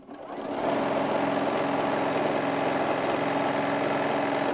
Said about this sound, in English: I'm sliding that ribbon into the center, folding over my fabric, and stitching down.